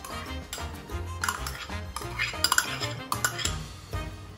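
Russian salad vegetables with celery are stirred in a bowl, giving a busy run of clinks and scrapes of a utensil against the dish over about four seconds, with no speech.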